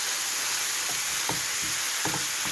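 Alexandria-style beef liver with spicy peppers sizzles steadily in a pan, a loud, continuous hiss broken by several soft knocks and scrapes as it is stirred.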